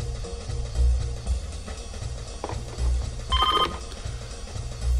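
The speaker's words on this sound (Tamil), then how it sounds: "ஃபோன் அடிக்கிற சத்தம் உனக்கு கேட்கலையா?" A telephone rings in short repeated bursts over a low rhythmic background, the rings fairly faint and indoor-sounding, with no voices.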